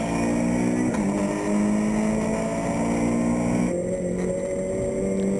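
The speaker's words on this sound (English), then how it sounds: "The two Clios going over the Nurburgring" Renault Clio race cars lapping the Nurburgring, a loud continuous engine whine with shifting pitch as gears change, one car's note dropping midway, sustained and close with no voices.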